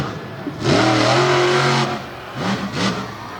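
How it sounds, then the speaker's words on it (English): The Firestone Bigfoot 15 monster truck, a 1994 machine dragging its wheelie bar at an outdoor monster truck show in Jennerstown, PA, revs its engine hard for about a second, then gives two shorter throttle blips over a steady crowd din. "Dragging the wheelie bar straight up and down goes the Firestone Bigfoot 15."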